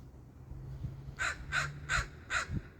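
A crow gives four harsh caws in a steady, evenly spaced series, fairly close and clear over a low background hum.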